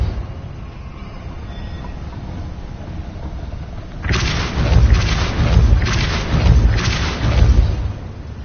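The Depulso force spell in Hogwarts Legacy fires after a quiet stretch with a run of four booming, rumbling blasts in quick succession, loud and close.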